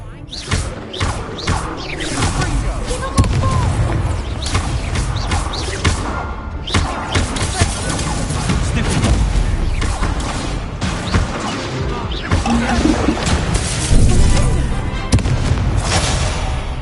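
Confringo and Incendio spell blasts in Hogwarts Legacy combat: repeated sharp bursting impacts and fiery crackles in a busy fight, loud and irregular across the whole stretch, with occasional shouted voices over them.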